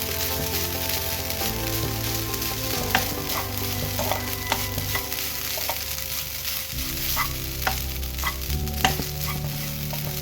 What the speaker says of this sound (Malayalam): അതും കുറച്ച് നേരം ഒന്ന് ഇളക്കുക.